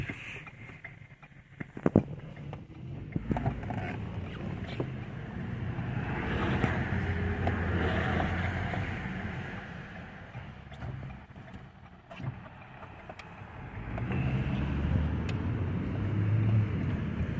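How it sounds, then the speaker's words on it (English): Downtown Birmingham, Michigan street traffic in winter, with a steady rumble of passing cars and engines rising and falling over several seconds, heard from inside a moving vehicle, a few knocks and bumps scattered through. "So traffic does not flow well down here"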